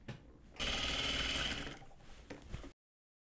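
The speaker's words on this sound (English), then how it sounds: "then I'll go ahead and open this up this way and top stitch all the way around" A sewing machine top stitches around a corset lining in one fast, steady mechanical whir lasting about two seconds, close and clear, before stopping abruptly.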